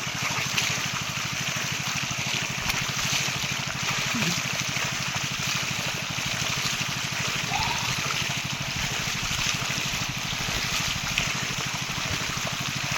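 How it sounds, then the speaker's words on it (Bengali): Water falls from a homemade bicycle-powered pump in a steady, continuous splashing trickle, fairly close and unbroken, with no talking. "এখানে জল পড়ছে নিচে দেখতে পাচ্ছ"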